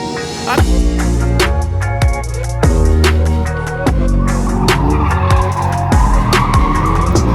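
Rear-wheel-drive performance car, such as a BMW M2, Mercedes C63 AMG or BMW 320i, spinning donuts while drifting, with loud continuous tire squeal over a roaring, rising and falling engine throughout.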